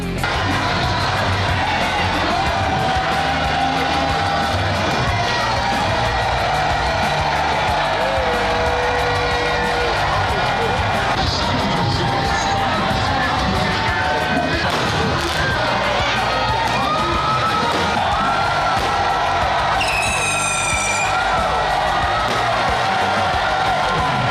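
Large crowd of fans cheering and shouting continuously at a Premier League trophy celebration, loud and dense throughout with a brief high whistle-like tone near the end.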